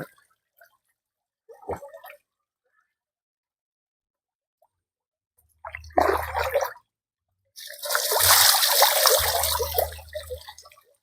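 A modified water pump pushes water out in intermittent bursts, with loud splashing gushes separated by near silence and a few small drips and plops.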